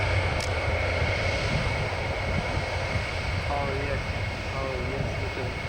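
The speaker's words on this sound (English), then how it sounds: "It's a big plane." A large airplane flies overhead as a steady, broad engine roar that holds at a fairly loud level throughout, with some wind buffeting and faint voices underneath.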